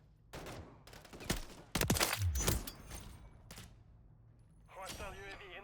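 BP 50 gunfire in a first-person shooter, with several sharp, loud shots in quick bursts followed by a quieter stretch, while a player talks over the action.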